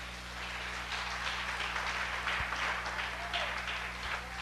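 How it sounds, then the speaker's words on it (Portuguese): A church congregation applauds during a sermon. Moderate, steady clapping is layered over a low electrical hum from the room's sound system. "Pode dar uma salva de palmas ao Senhor?"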